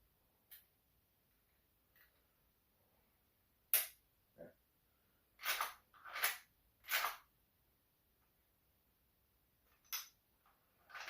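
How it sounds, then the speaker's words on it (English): The charging handle of a Hatsan Escort bullpup shotgun is worked on a tabletop, giving a series of sharp metallic clicks and clacks, with a cluster of louder snaps in the middle, set against near silence. "slide the charging handle back in."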